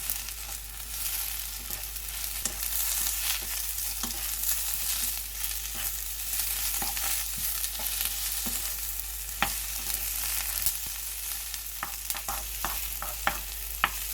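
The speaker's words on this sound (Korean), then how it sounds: "빨강, 노랑, 파프리카를 넣고 살짝만 볶아줍니다" Steady sizzling of fish cake strips and red and yellow bell peppers being stir-fried in a pan, with frequent light scrapes and clicks of a utensil stirring, no voices.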